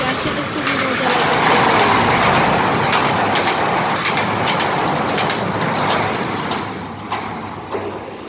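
A train rolls past outdoors with a steady, loud rumble and clatter that swells early on and gradually eases toward the end, with voices of people watching faintly beneath it.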